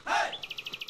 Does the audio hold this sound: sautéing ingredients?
no